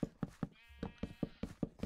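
Sheep in the video game Minecraft let out a couple of wavering bleats between repeated sharp clicking and chopping-like taps, close and moderately loud.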